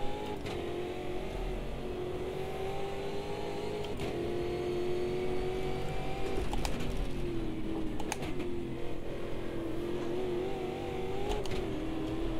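A Chevrolet race car engine in the Automobilista 2 racing game drones steadily throughout, its pitch rising and falling with shifting revs and a few sharp clicks on top.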